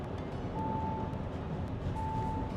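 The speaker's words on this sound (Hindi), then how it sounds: "एक कंटिन्यूस बीप साउंड आती है which is a warning sound, और ये सभी कार्स में आती है इंडिया में बिकॉज ऑफ आर रेगुलेशंस।" Continuous speed warning beep in an Audi Q7 cruising at 120 km/h on an Indian expressway, a thin steady tone sounding twice over loud road and engine rumble inside the cabin.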